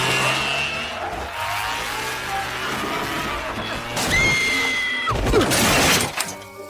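A cartoon motorcycle in an animated comedy revs and leaps over a fire hydrant: a whining engine tone gives way to a loud crash with shattering and skidding noises near the end.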